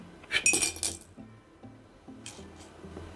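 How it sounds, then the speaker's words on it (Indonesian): A metal coin drops into a drinking glass with a bright clink and brief rattle, followed by a couple of faint softer taps as it settles; no talking. "sudah 3 koin pindah ke dalam gelas"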